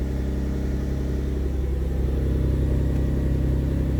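A 1995 Mitsubishi 3000GT VR-4 engine idles steadily after a cold start, running slightly lean, with a constant low rumble and an even, close throb throughout and no talk.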